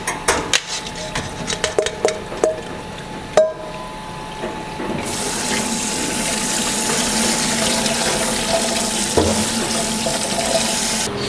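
Tap water runs steadily into a sink to rinse cheap beef round for a salad, a continuous hissing stream after a few brief clatters and knocks.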